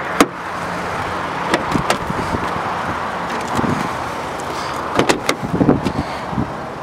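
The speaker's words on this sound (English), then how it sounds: "just let me unlock the door for you" Rear door of a 2013 Mazda 3 being unlocked and opened, with several sharp clicks and clunks of latch and lock over a steady background hiss, loudest near the start and again toward the end.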